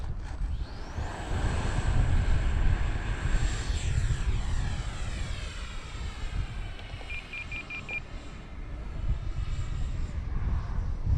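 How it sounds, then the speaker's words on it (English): An X-Fly TA-7 RC airplane flies past on a Labor Day outing, its propeller engine droning steadily and shifting in pitch as it passes, with a short series of electronic beeps partway through. "this is a pretty cool plane here."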